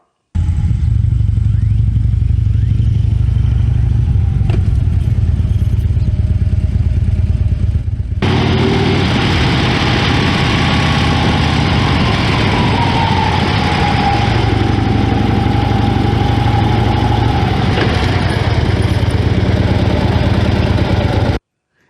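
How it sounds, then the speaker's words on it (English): A motorcycle downshifts from second to first gear and comes to a stop, its engine note changing partway through and then droning on steadily, loud and close, with no talk. "I'll be in second gear and then downshift to first gear prior to stopping"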